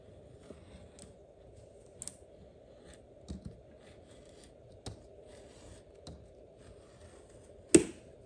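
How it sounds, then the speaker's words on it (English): Quiet, sparse scissor snips and cutting clicks through sublimation adhesive vinyl, spaced a second or so apart, ending in a sharper, louder snip, with no talking. "I could go in and trim them off with a pair of scissors."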